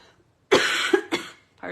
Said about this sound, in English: I'm probably going to be coughing